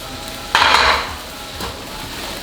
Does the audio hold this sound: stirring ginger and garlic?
yes